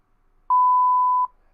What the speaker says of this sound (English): when he goes through the motion sensors, it triggers an alarm that is only heard in the security office